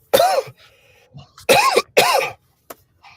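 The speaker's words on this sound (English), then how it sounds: "Excuse my coughs." Three harsh coughs ring out close up, one alone and then two in quick succession, with quiet breathing and small noises between them.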